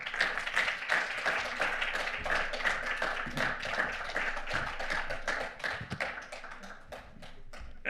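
A room full of people gives a teacher steady applause at a school event, with dense, continuous clapping from many hands throughout, moderately near.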